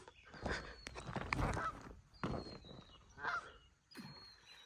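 Wild geese honking repeatedly near a muddy farm field during spring planting, loud overlapping calls in several bursts with a faint high whine running through the background.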